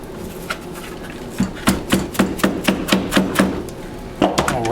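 Hammering on an AK-47 triple holster zombie rig: a steady run of about ten sharp, close knocks, followed by a few scattered taps and faint rustling.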